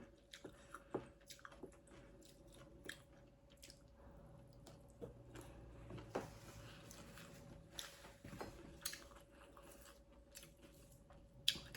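Close-up chewing of crisp, freshly picked vegetables: repeated wet crunches and bites at an irregular pace, quiet and near, with no talking.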